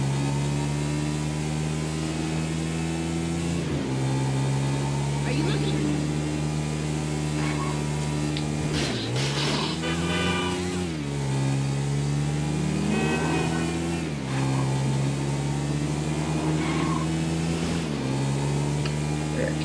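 Car engine in GTA V revving and sliding through a drift, a steady loud motor drone with pitch swells and dips as the throttle rises and falls, sustained throughout with no talk.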